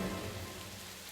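Steady rain falls through a forest in Minecraft, a dense, even hiss of drops on foliage and ground that holds at one level for the whole second with no voices.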